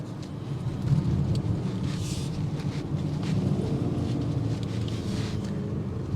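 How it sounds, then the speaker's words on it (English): A 2025 BMW X5 M60i's exhaust rumbles steadily from inside the cabin, a low, constant drone with some wind noise, fairly loud and unbroken. "The exhaust filters in."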